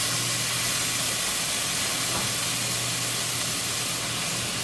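Tomatoes sizzle and cook down into a thick sauce in a pan of browned onions, a base for red wine braised beef short ribs. A steady, loud hiss runs unbroken throughout.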